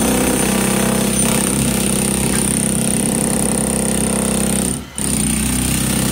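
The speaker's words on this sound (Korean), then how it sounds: "여기는 벽체를 뚫는 작업을 하고 있고요" Loud, continuous hammering from a breaker chiselling through a house wall to open a doorway for a connecting passage, with rapid close-up pounding over an engine drone and a brief pause near the end.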